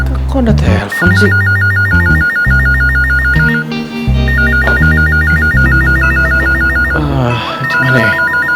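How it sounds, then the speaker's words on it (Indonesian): A telephone rings loudly in a bedroom in repeated electronic trilling bursts with short gaps between them, over a backing of music. "Kok ada telepon sih?"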